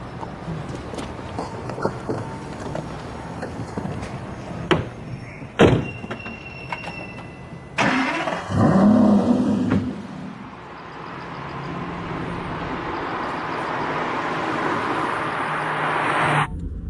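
A car door thuds shut, followed by a burst of mechanical noise as the engine starts, then a steady, gradually rising drone as the car pulls away.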